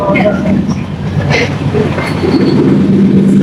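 Rumble of a passenger train running, heard from inside the carriage on a long family train journey, with steady broadband rolling noise and faint clatter throughout, and voices talking faintly under it.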